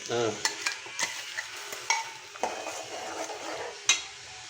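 Oil sizzles and spits in a pan while tempering spicy chutney, as a spoon stirs and scrapes, with scattered clinks of metal against the pan.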